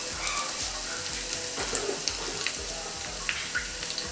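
Julienned ginger and three or four dried red chillies sizzle steadily in hot ghee over a very low flame while Amritsari pindi chole is being made, a continuous close frying crackle with small pops and no talk.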